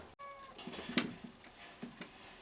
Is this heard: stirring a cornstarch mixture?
no